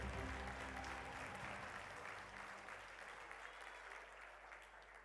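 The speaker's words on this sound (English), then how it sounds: "Please let's give them all a big round of applause." An audience at a national parks awards ceremony gives workplace award winners a steady round of applause. The clapping is full at first and slowly eases off, with a low hum underneath.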